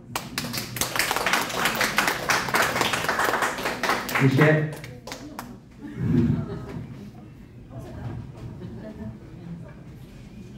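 An audience at a motivational coaching talk clapping, with a burst of many hands at the start that fades, followed by talking and scattered taps.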